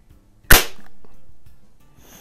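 A single sharp air rifle shot from a target match comparison between a Gamo 126 and a Beeman AR2078, close and loud, with a fast crack followed by a short fading tail.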